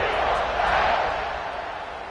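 A college football stadium crowd at a UCLA vs Auburn game roars during a kickoff, a broad, loud wash of cheering that holds steady and then eases off slightly.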